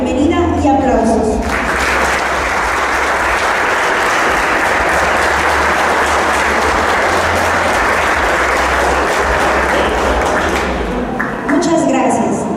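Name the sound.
applause welcoming the book presentation speakers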